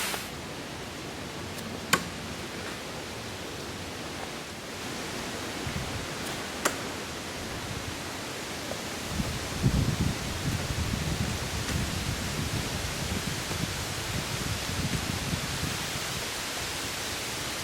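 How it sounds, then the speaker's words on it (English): Hard outdoor rain falls as a steady broadband hiss with a few sharp ticks early on, then heavier rustling patter in the second half, continuous with no talk. "it's starting to rain here kind of hard"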